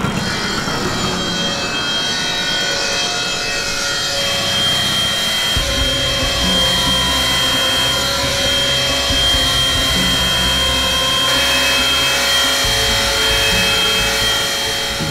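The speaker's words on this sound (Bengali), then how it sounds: "স্যার, এই পুরো এরিয়াতে এই একটাই মার্বেলের ফ্যাক্টরি আছে।" Marble factory machinery cutting stone, a loud continuous grinding drone with steady high whine, its pitch and texture shifting midway as the cut deepens, no voices.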